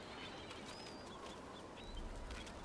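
Faint, distant bird chirps in the outdoor ambience of Dragon Age: The Veilguard, a few short high calls over a quiet background hush.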